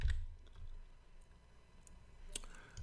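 Sparse, faint taps on a computer keyboard come through as a few scattered keystrokes over a low background hum, with no voice present.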